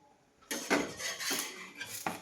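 An iron griddle (tawa) being picked up and handled, a few sharp metallic clanks and scrapes after a brief quiet start, close and fairly soft.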